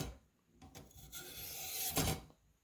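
A Spyderco Police knife blade rasps across a Warthog fine 1000-grit sharpener in several close, steady strokes, the scraping building and peaking loudly near the end before trailing off.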